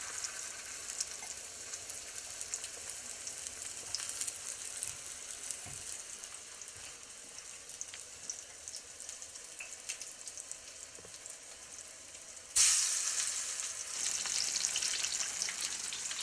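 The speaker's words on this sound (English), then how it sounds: "I'm just going to dip them on all sides, and we're going to fry them." Ten small coffee-crusted lamb rib chops fry in a hot pan with a steady, close sizzle that surges louder and brighter near the end as more meat hits the oil.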